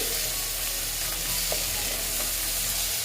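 Tomato frying with meat in a pan for a chana dal with potato, a dense continuous sizzle close up with faint stirring clicks throughout.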